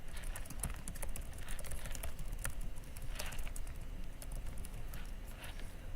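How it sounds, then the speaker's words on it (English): Quick, steady typing on a computer keyboard, with dense soft key clicks running the whole time over a low background hum, no voices. "Blind typing is great."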